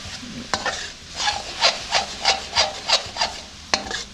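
Sweet fish sauce being stirred as it simmers down in a pot, a utensil scraping in a steady rhythm of about eight close, distinct strokes with a few sharper knocks, no talking.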